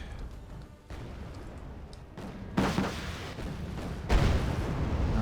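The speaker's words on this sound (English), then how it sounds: "Tanks are engaging" Tanks firing in the video game Wargame Airland Battle, heavy booming shots at about 2.5 and 4 seconds over a low rumbling battle ambience.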